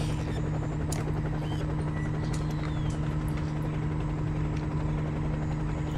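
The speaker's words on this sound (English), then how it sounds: "It's too hard to tell with the helicopter hanging around." A helicopter hovers nearby over Vietnam's Rung Sat marshland in 1966, a continuous low rotor thrum and engine hum held at steady loudness, with a few faint sharp knocks over the top.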